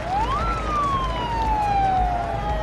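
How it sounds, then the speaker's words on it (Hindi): Ambulance siren wailing during a long political march, one rising then slowly falling tone sweeping clearly over a dense crowd and street noise. "दौरान मार्च इमरान खान के कान में जैसे ही एम्बुलेंस की आवाज़ पड़ी तो फौरन एम्बुलेंस के लिए रास्ता बनवाने को कहा"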